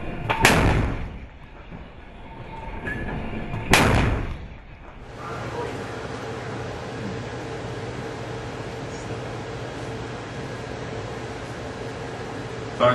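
A land-mounted Mk45 5-inch naval gun fires live rounds, two heavy booming shots a few seconds apart, followed by sustained rumbling noise.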